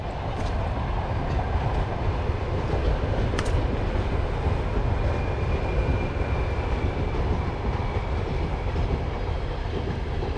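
A train rumbles past nearby in Lazarevskoye, Sochi, in a continuous, steady roar of wheels and rail noise, with faint clattering and no voices.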